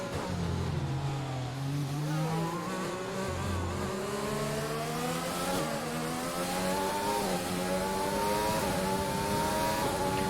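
Mercedes Formula 1 race car engine in F1 2020, a steady high-pitched whine rising and falling through gear changes as the car weaves, loud and continuous with other cars faintly around it.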